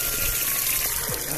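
Water gushes steadily from a tap into a small cup, a short burst of rushing liquid close by.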